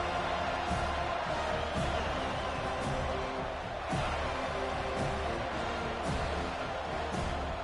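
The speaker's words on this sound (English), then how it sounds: "This crowd bringing the energy and noise early." A football stadium crowd keeps up a steady, distant roar of cheering and noise early in the game, with faint swells and no clear break.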